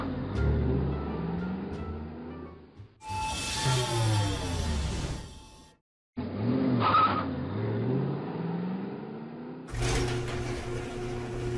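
A car driven in Garry's Mod gives a game engine drone that rises and falls as it revs, broken by abrupt cuts, bursts of tire screech and skidding, loud and close with no talking.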